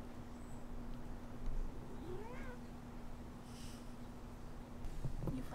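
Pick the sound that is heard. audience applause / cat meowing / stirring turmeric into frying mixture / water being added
cat meowing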